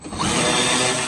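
A small Milwaukee 12-volt cordless power tool spins up and runs with a steady high whine, close and loud, for about a second.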